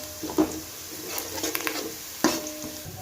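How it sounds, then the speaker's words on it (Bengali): Bay leaves being stirred in hot oil in a pan, a soft sizzle with a few clear scrapes and knocks of the spoon against the pot. "তেজপাতা দিয়ে একটু নেড়ে চেড়ে নেওয়া হচ্ছে যাতে গন্ধটা ভালো করে ছড়িয়ে যায় তেলটার মধ্যে"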